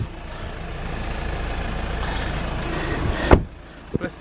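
A Kia Sportage 2.0 idles steadily with a low, even engine hum, then a sharp thump cuts in near the end and the running sound drops away, leaving a couple of faint knocks.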